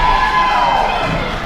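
A large crowd at a tag team wrestling event cheers and roars loudly after a pinfall, a steady wash of voices and shouting that carries through the whole moment.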